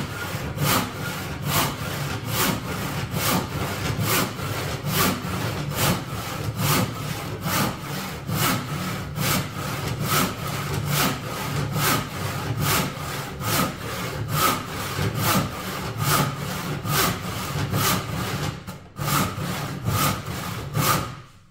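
A hand saw cuts squarely dimensioned timber in steady, rhythmic back-and-forth strokes, close and continuous for about twenty seconds, with a brief pause near the end before the strokes resume.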